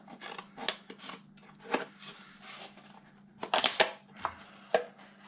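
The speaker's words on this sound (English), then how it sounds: "use some strong scissors to at least cut it in half" Strong scissors snip through thick package material in a quiet room, a series of sharp, crunchy cuts in uneven bursts, some close and loud, over a faint steady hum.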